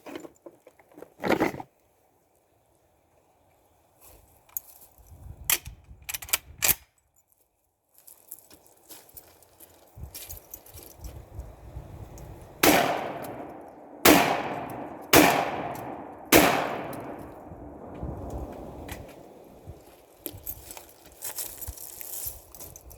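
A Hatfield SAS 12 gauge shotgun firing Winchester 7-shot loads outdoors, several sharp loud reports, four of them in quick succession, amid handling clatter and quieter knocks.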